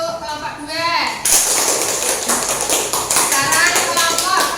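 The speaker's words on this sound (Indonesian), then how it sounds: "Kita berikan tepuk tangan untuk kelompok 2." Students in a classroom break into brisk, fairly close clapping for a presenting group right after a teacher finishes a short spoken line, and the clapping continues unevenly to the end.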